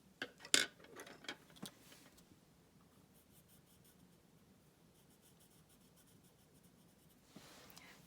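A pencil scratching lines on paper while sketching a one-point perspective archway and lettering, several quick close strokes at the start, then a quiet pause and a final brief stroke, with no talk.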